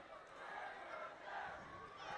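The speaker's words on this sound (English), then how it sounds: "it's the Ringmahon crowd who are in voice here at the moment" Ringmahon Rangers supporters roar and chant in a steady, dense wall of crowd noise at a late stage of the FAI Intermediate Cup Final football match, heard from a distance with no clear individual voices.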